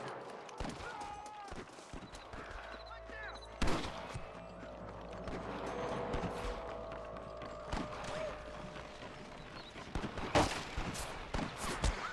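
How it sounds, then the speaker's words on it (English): Scattered gunshots and bursts of gunfire crackle in the video game Red Dead Redemption over a noisy, busy background with hoofbeat-like clatter and muffled voices. "I can hear more gunshots."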